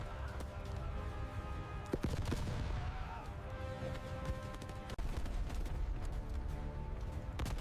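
Battlefield gunfire effects, dense bursts of rifle and machine-gun shots crackling over a low rumble, with a few sharper close cracks standing out.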